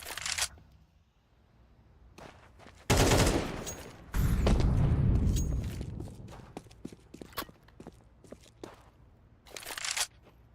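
Gunfire in a Counter-Strike match: bursts of sharp shots and rattling automatic fire come up close and loud among clicks and crunchy game effects, with quieter gaps between volleys.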